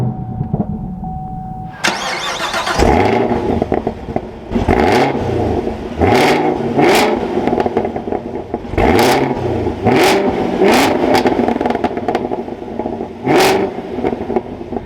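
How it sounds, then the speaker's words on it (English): A 2023 Chevrolet Camaro ZL1 engine cranks and fires up, then settles into a rumbling idle broken by a series of sharp, loud revs, heard up close with no talking. "let's fire up this ZL1 with my foot on the brake and the clutch"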